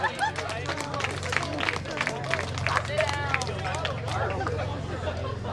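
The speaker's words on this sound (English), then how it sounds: "Give him a round of applause." Audience at a high school sober grad night show claps and cheers amid crowd hubbub and a steady low hum, a loud dense wash of applause lasting throughout.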